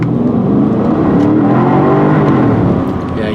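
A Porsche Cayenne Turbo SUV with a twin-turbo engine accelerates hard, a loud, close, rising engine roar heard from inside the car.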